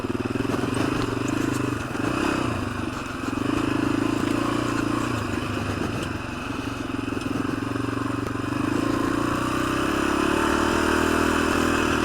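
A 1986 Honda XL250R motorcycle on a short street and yard ride, its engine humming loud and close with continuous mechanical clatter, the pitch rising and falling slightly as it accelerates and eases off.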